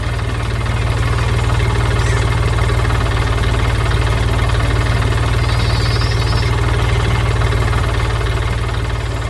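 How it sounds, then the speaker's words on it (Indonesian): An animated blue truck crosses a wide green field with a steady, loud, low engine drone and a regular pulsing knock, continuous and unchanging with no voices. "Truk biru sedang berjalan, melintasi ladang hijau yang luas dengan suara mesin yang riang."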